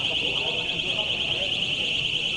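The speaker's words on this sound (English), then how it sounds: "Those are alarms going off inside that airport." Alarms blaring inside Dallas Love Field Airport during a shooting, a steady continuous electronic tone that stays loud and unbroken throughout, with a dense wash of background noise beneath it.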